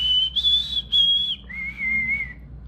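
A person whistles a short tune alone, a few clear sustained notes sliding between pitches, close and moderately loud.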